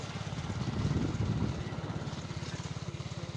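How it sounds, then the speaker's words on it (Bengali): A motorbike rides along a rough, bumpy rural road in the Sundarbans region, its engine giving a steady low pulsing drone throughout, close and continuous with no talk. "বাইকে যাওয়ার সময় ভিডিও বানাতে হয়"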